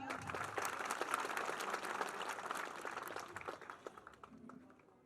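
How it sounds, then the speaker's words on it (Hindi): A rally crowd in an Indian village applauds a local boxing gold medallist, a sustained wash of many hands clapping that holds steady, then thins and fades toward the end. "उनके लिए भी जोरदार तालियां"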